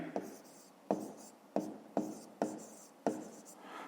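A pen scratches across paper in six distinct strokes, each starting with a sharp attack and fading out, recorded close and fairly quietly while a sum is written out in a fifth-grade maths exercise.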